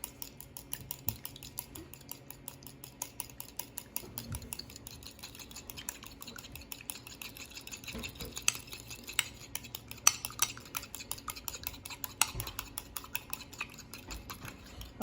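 A little fork beats banana bread batter in a bowl, a fast, continuous run of light clicking taps against the side, fairly quiet and close, with no talking.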